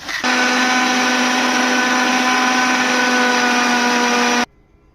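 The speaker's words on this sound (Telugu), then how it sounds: "ఇందులో కొంచెం ఉప్పు వేసుకొని మిక్సీ చేసుకుందాం" Mixer grinder whirring loudly and steadily as it blends soaked rice with a pinch of salt into batter, running at constant speed for about four seconds before cutting off abruptly.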